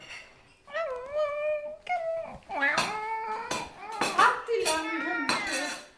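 A dog whimpering and howling in a Palatinate-dialect radio play, drawn-out wavering whines and yelps rising and falling over several seconds, close and fairly loud with household clatter behind.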